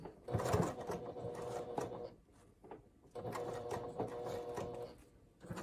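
A sewing machine slowly stitches a circle on a fabric port hole pouch, running at very low speed in two soft bursts of rhythmic mechanical chatter separated by a brief pause, close and quiet.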